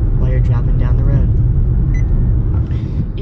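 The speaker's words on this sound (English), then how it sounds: "And then eco mode, nice and quiet." A car drives quietly in eco mode, a steady low engine and road rumble underneath someone talking over it.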